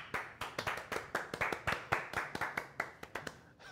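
A small audience at a PC-building livestream claps in short, distinct bursts, with sharp separate hand claps in a loose rhythm over under four seconds, moderately close and fairly quiet.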